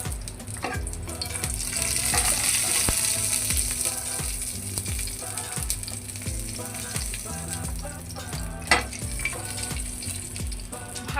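Bay leaf, dried chili and panch phoron fry in hot oil with a steady, close sizzle, broken by the repeated scrape of a spatula stirring the pan.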